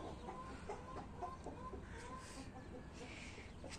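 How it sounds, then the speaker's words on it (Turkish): Chickens cluck softly outdoors in short, scattered calls, faint and a little distant against a low background hum. "Tavuklar da dışarıda."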